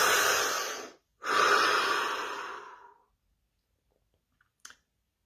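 A deep breath close to the mic during a guided scanning session, heard as a strong inhale and a long exhale, followed by silence and a couple of tiny clicks.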